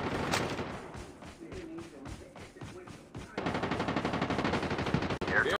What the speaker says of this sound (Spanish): Guarda que hay tiros